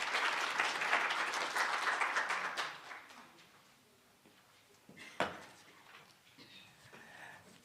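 Round of applause for the chairperson at a voters register release event, a loud wash of clapping for about two and a half seconds that fades into quiet room noise with a sharp knock and faint shuffling.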